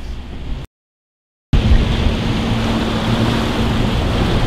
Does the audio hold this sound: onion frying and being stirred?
no